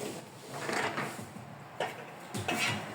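Steel plates, dishes and a plastic plate handled in a home dishwasher's lower rack: several close clinks, knocks and rattles spread unevenly over a few seconds, with quiet gaps between them.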